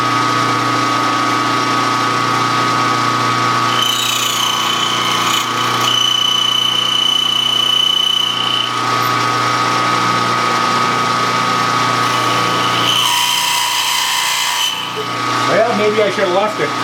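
A lathe or milling machine takes a steady cut on Kerzel governor weight arms, a continuous grinding, rubbing machining tone with engine-like drone running throughout, shifting in pitch partway through, with brief harsher scraping near the end.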